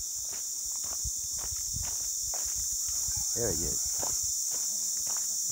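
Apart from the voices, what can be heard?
crickets chirping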